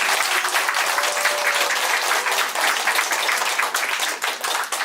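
A roomful of residents at a neighborhood redevelopment briefing in Gangnam, Seoul, claps steadily together, a dense even patter of many hands with a faint voice briefly underneath.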